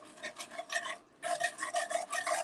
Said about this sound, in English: You want to whisk that flour. And you're not going to have any lumps. Just keep whisking it.